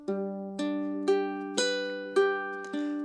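Six evenly spaced single-string plucks on a ukulele in a Silent Night fingerpicking pattern, each note sustaining under the next, quiet and close-miked with no talking.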